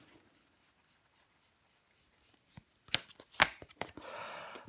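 Tarot cards being handled and laid down: after a quiet stretch, a few sharp close slaps and soft shuffling rustles as cards are placed, with a brief scraping flutter at the end.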